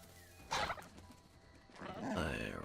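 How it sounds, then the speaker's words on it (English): A chicken in a video game gives two bursts of gobbling, clucking calls separated by a quieter pause, over a faint background hum. "I hear you, chicken. I hear you."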